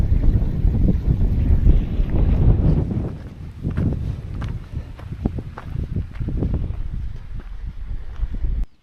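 Strong, steady wind on an exposed Lake District fell, Sheffield Pike, buffeting the microphone in heavy low rumbling gusts, with a few soft footsteps or brief knocks coming through as the gusts ease slightly.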